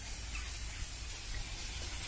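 Würth engine cleaner sprayed onto the cold, dirty engine of a Toyota, a steady continuous aerosol hiss over a low rumble, close and unbroken throughout.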